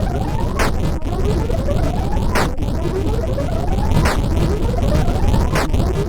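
Shortened charge-up rocket sound from the game Karlson: noisy electronic whooshing with a rising whine that repeats in short cycles, punctuated by sharp bursts roughly every one and a half seconds, loud throughout.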